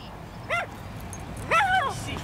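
A dog gives two short, high yips in an outdoor park setting, the first brief and the second a longer whining yelp, both mid-distance over quiet ambient background.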